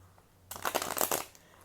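A quick, close riffle of Cosmic Tarot cards being shuffled, a papery flutter of about a second rising out of near silence and fading quickly, with no voices.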